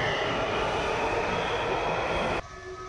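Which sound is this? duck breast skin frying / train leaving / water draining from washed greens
train leaving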